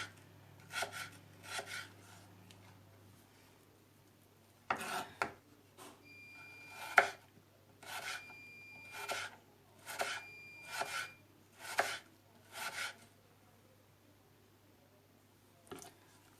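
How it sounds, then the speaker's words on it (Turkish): A knife slices potatoes into thin half-moons on a cutting board in short bursts of scraping cuts, separated by brief pauses, close and fairly quiet. "Patateslerimizi böyle ay şeklinde kesiyoruz ilk başta arkadaşlar"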